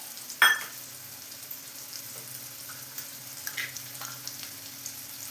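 Onion, mustard seeds, dried chilli and curry leaves fry in a pan of hot oil for a drumstick-leaf stir-fry. A sharp clatter comes first, then a faint, steady sizzle with small crackles, and no talking.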